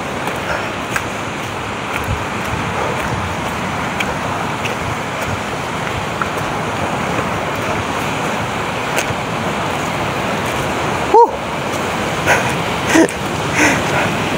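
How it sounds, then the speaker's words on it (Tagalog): Large waves breaking on a rocky shore where people are fishing, a steady loud roaring wash throughout the clip, with a brief sharp knock near the end. "So malalaking alon na yan guys."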